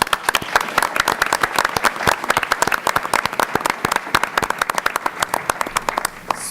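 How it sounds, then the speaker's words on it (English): A crowd at a school board meeting claps steadily and loudly, dense applause sustained throughout with no pauses. "Let's give them a round of applause, please."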